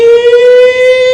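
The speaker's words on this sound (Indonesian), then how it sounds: "Sirine berbunyi" A loud siren sounds a steady sustained tone with strong harmonics, holding nearly constant pitch throughout, close and alone with no voices.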